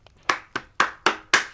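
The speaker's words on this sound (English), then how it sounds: "A clap and a half for that." Five sharp hand claps sound in quick, fairly even succession, close and crisp, with nothing else around them.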